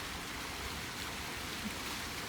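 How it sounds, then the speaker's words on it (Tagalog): Artificial waterfall in a hotel garden pours steadily in a continuous, even broadband wash of falling water, close and unbroken, with no voices. "Naririnig nyo ba yung tunog ng tubig?"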